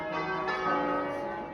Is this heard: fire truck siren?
no